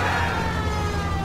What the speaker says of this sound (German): Oh, ich höre eine Sirene.